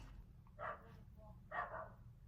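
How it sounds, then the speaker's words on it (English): A dog outside an open window gives two faint, distant barks about a second apart over a low indoor hum. "I need to shut my window, there's a dog barking"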